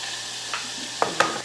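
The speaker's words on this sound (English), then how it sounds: "It's already sizzling." Bacon sizzles in a pan on the range, a steady close hiss with a few sharp pops and spatters near the end, no talk over it.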